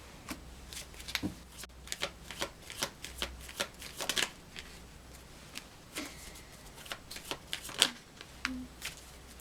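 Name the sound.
tarot cards being shuffled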